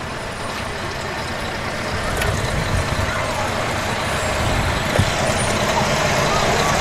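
A locally owned ready-mix concrete truck rolls past in a parade, a steady rumbling engine drone under traffic noise, with people talking nearby.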